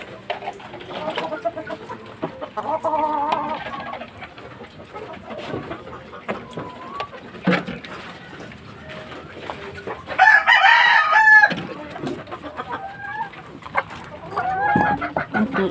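Fighting-cock hens cluck intermittently throughout, and a rooster crows loudly once midway through, with other birds faintly in the background.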